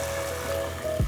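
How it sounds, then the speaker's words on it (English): Water poured into a pot of short beef ribs on a stovetop, a steady trickling stream ending in a brief splash. "Then I'm going to add 2 cups of water"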